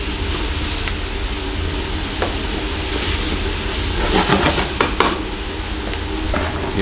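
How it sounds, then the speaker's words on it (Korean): Steady, loud sizzling of pork stir-frying in hot oil over high heat, with occasional clinks and scrapes of a utensil against the pan. "돼지고기도 기름에 튀기듯이 볶아주도록 하겠습니다"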